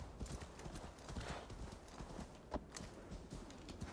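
A horse in the Assassin's Creed Valhalla game gallops with fast, steady clip-clop hoofbeats throughout, a brief whinny rising near the middle, all at moderate volume.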